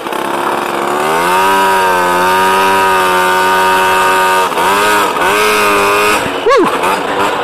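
A Piaggio Ciao moped engine, badly out of tune, revs hard and steadily with a raspy two-stroke buzz, dips and surges near the end, then gives a sharp rising blip, close and loud.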